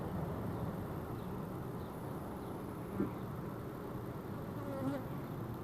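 Honey bees buzz steadily at an open beehive during a frame inspection, a dense, constant hum close by with a few louder individual bees passing near.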